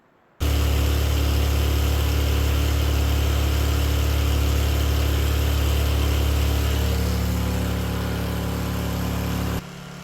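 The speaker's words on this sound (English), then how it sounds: "It took about 4 pulls to fire the generator up, just what I expected." A portable generator, pull-started in cold weather, bursts to life after a moment of quiet and runs loud and steady with a close, droning engine note, then cuts to a lower level near the end.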